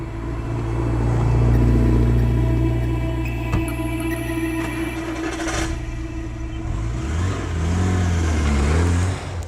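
A Porsche 944 turbocharged engine pulls hard on a track, loud and close, its note rising as boost builds, then easing and climbing again through gear changes.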